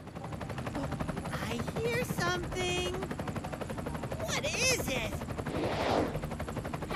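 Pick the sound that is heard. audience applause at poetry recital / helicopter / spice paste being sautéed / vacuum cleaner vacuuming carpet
helicopter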